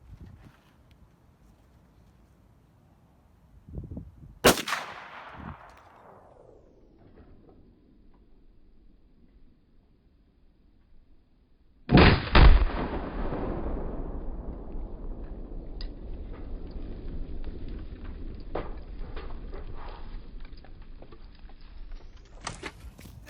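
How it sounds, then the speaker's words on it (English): An AK-74 rifle firing 5.45x39 rounds sets off a one-pound Tannerite target outdoors at a range: one sharp shot with a decaying boom, a quiet pause, then a loud blast whose rumble and wind noise linger for several seconds. "Gonna blow some more stuff up. 1 pound Tannerite, AK-74, 545 by 39."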